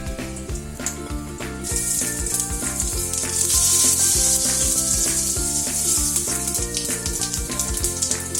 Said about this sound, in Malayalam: നമുക്കതിലേക്ക് എടുത്തു വച്ചിരിക്കുന്ന ജീരകം ഇടാം.